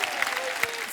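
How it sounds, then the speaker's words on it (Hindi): A studio audience claps on the set of a comedy show, a brief burst of steady, dense applause with a couple of sharper individual claps standing out, heard at a moderate distance. "यार एक बार ही ताली बजा दो इसके लिए यार."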